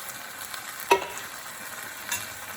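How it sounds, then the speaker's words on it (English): A spoon stirs German style burrito filling in a frying pan over a steady low sizzle, with one sharp scrape or knock near the start and a softer one later. "Give that a stir."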